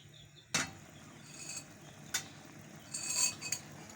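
A spoon stirs chicken corn soup in a pot, making a few faint, scattered metallic clinks and light scrapes that stand out against quiet room tone.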